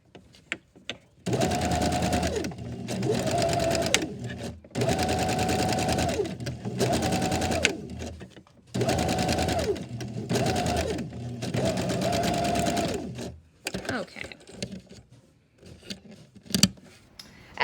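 Several long runs of rapid, close machine stitching as a sewing machine with a rolled-hem foot finishes ruffles, separated by short pauses, then fabric handling, snips of scissors and quiet clicks.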